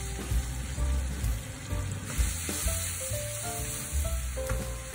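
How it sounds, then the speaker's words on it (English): Pork with ginger and wine stir-frying over high heat: a loud, dense sizzle with continuous scraping and tossing of the spatula in the wok, heard up close and alone. "Stir fry the pork fryer until slightly charred."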